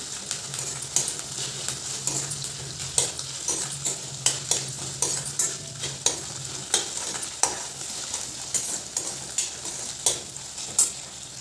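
Onion sautéing in oil in a pan while cooking a spicy sprouted moth bean curry, soft sizzle under repeated sharp scrapes and taps of a spoon stirring against the pan, close and fairly quiet.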